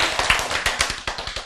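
An audience at a Korean lecture claps vigorously on request, producing a dense, rapid, continuous patter of hand claps up close, with no talking.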